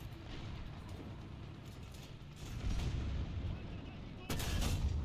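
An IS-2 tank fires its 122mm gun in a video game: heavy, booming blasts swell over a constant low rumble, with two loud surges near the end.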